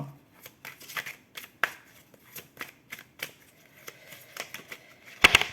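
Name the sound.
shuffling and drawing tarot cards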